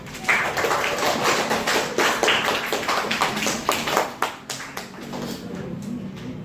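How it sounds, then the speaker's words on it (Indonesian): Students in a classroom clap together in brisk, slightly uneven rhythmic bursts, fairly close and moderately loud, tapering off toward the end. "Tepuk tangan dulu."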